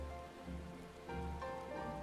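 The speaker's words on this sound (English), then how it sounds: "Yeah, getting in out of the rain might not be a bad idea." Rain falls steadily in Final Fantasy XIV as a constant soft patter over a low ambient tonal bed, holding even and fairly quiet throughout with no voices.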